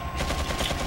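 Gunshot in the Wii version of Resident Evil 4, a dense burst of firing that fills the short moment at steady loudness, with no talk over it.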